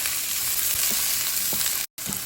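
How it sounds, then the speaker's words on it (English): Peppers sauté in sausage residue in a pan, producing a steady close sizzle with light stirring taps and a brief dropout near the end. "And we're going to saute these just a little bit."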